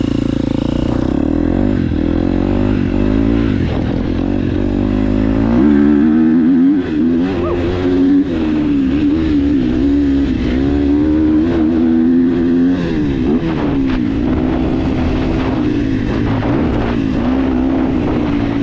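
A KTM 250SXF four-stroke dirt bike lapping a motocross track, its engine loud and close throughout, rising and falling in pitch as it revs through gears and off the throttle.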